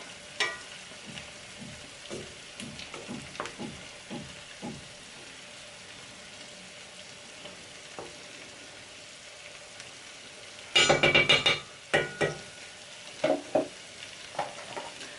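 Jerk chicken rasta pasta sauce stirred and frying in a pan on medium-low heat: soft, steady sizzle with repeated scraping stir strokes, a louder burst of spoon clatter near the end, no talking.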